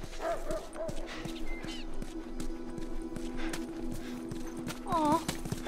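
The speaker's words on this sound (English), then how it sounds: "Aw, doggies! You're gonna want to stay away from those." Wild dogs in the video game The Last of Us, with barks and yips rising near the end over a steady rhythmic clopping and game ambience, while a voice speaks through the clip.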